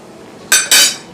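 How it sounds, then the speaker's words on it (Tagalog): A utensil scrapes and clinks twice against a cooking pan while stirring Filipino-style sweet and sour pork. The two sharp, close metallic strokes come in quick succession with no talk. "And of course we will stir it like that."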